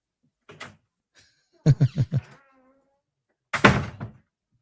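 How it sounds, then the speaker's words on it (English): A door shuts with a soft single knock, then a quick run of three or four thuds and a final louder thump, each short and close against near silence. "Sorry about the door sound"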